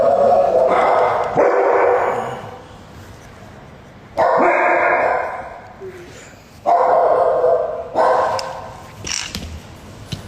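A dog barks in loud, repeated bursts at night, with several spaced outbursts over about ten seconds and quieter yips and whimpers between them.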